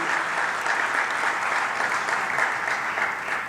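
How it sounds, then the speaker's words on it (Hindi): Sustained audience clapping welcoming Swami Paramatmanand Saraswati at the Ekatmata Parv event in Bhopal, a broad, even wash of many hands that holds steady for the whole stretch without speech. "आप भी तालियां बजा के उनका स्वागत कीजिए, अभिनंदन कीजिए।"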